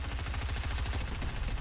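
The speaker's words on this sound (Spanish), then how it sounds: "Están cagando tiros, ¿no?" Rapid gunfire in a Fortnite match, a fast run of loud repeated shots packed close together throughout, with no talking over it.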